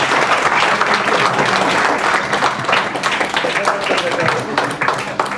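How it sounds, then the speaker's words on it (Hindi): Steady applause from an audience at a neighbourhood meeting in Jhabua, a dense continuous clapping that holds at an even level for several seconds, with some voices mixed in beneath it. "तालियां आपकी बजती रहे"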